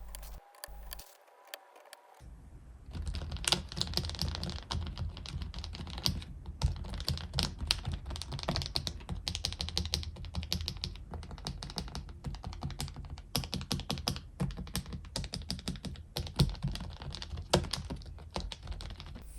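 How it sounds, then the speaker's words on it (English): Dense, continuous typing on a GMK67 mechanical keyboard with Everglide Aqua King V3 switches, crisp close-up clacks in a fast, steady run after a few isolated taps and a short pause. "Installing the switches one after another was strangely therapeutic."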